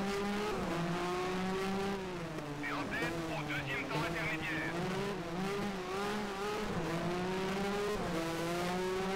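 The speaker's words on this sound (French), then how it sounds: "Alors je crois que c'est un moteur Hart hein" Hart-powered Formula One car from the 1985 season in the video game F1 Challenge, a loud, steady high-revving engine whine with shifting pitch and brief tire squeal, with someone talking over it.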